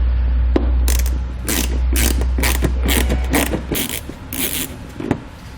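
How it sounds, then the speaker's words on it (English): A T20 Torx bit backing out three screws on a 2019 Chevrolet Sonic gives repeated short ratcheting and grinding bursts in a fast rhythm, close and fairly loud, over a low hum that stops partway through. "we'll grab a T20 Torx bit and we'll pull those 3 screws out"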